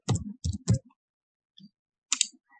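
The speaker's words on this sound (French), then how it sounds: "Et je clique sur continuer." A computer mouse gives a few quick, dry clicks in a quiet room, first a rapid cluster of three and then a lone click shortly after.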